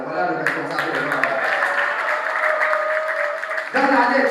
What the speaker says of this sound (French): Applaudissons pour lui.